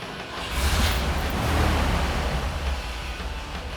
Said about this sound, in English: And let me go ahead and start it for you so you can hear what it sounds like.